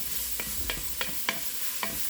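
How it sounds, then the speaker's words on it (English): A spoon stirs chicken stew in an enameled cast iron Dutch oven under a soft, steady simmering sizzle, with about five distinct scraping strokes at a slow, even rhythm, close and fairly quiet. "Here, let's stir this around and see how it's going."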